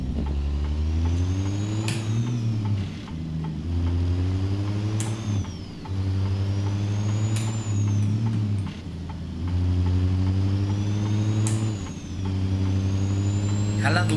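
A 2023 Freightliner Cascadia truck engine pulls hard through repeated rising revs and gear changes, with sharp air brake hisses bursting out between pulls, loud and close.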